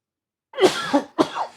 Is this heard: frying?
no